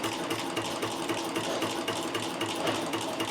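A sewing machine fitted with a tube turner attachment stitches at a steady, fast running rhythm, its mechanical whir loud and close with no talking.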